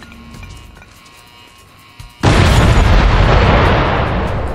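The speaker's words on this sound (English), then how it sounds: "Grenade!" A grenade blows up in The Chronicles of Riddick video game: after a quiet stretch with a faint pop, a sudden loud, close boom hits and rolls on as a sustained roar of debris and rumble.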